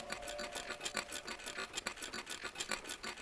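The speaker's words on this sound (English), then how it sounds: "I gritted my teeth and kept sawing." A hand saw works through material in a rapid, regular back-and-forth rasp, close and quiet, each stroke a short gritty scrape with no voices, as a sound effect in a horror audio drama.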